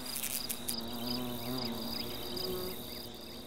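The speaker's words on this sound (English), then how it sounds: "And even a guard hornet can't get on with its job properly when irritating flies are buzzing about." Flies buzzing around a hornet colony, a close, continuous insect drone with wavering pitch as wings hum nearby, steady for several seconds with no voices.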